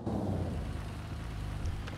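A Ford Taurus engine in GTA5 gives a continuous low rumbling drone, steady and close, with no talk over it.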